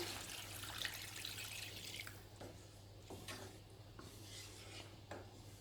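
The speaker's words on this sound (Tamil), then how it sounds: "இப்போ தண்ணி சேர்க்குறேன்" Water is poured into Chettinad kuzhambu as it cooks, a steady rushing splash at first, then softer dribbles and scraping sounds over a low hum.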